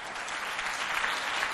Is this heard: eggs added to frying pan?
no